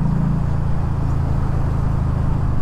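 Yamaha V Star 1300 motorcycle, a 1300cc V-twin, droning steadily at close range while being ridden, a continuous low rumbling engine note with wind noise and no talking.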